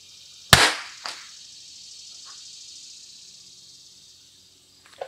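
A single sharp .22LR shot cracks from a Christensen Arms Ranger 22 rifle firing Lapua ammunition on an outdoor 100-yard range. A quick second report follows and decays over a faint hiss, then silence with a small tick at the end.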